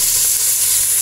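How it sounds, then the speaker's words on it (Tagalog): Chicken being sautéed in a pan for a native chicken soup, giving a steady, close hiss of sizzling oil that runs unbroken and fairly loud throughout, with no voices. "at igigisa na natin yung ating manok"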